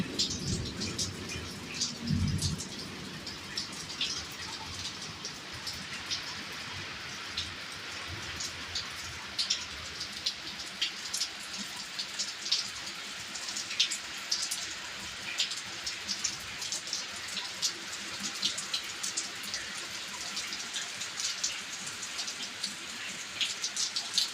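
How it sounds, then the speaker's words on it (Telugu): Rain falls steadily on a hard surface, a continuous close patter of drops that stays even throughout. "ఇది వర్షం సడన్గా మొదలైంది"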